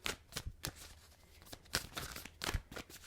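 Tarot cards being shuffled by hand, a string of quick riffling bursts and soft slaps at an uneven rhythm, close up and fairly quiet with no talking.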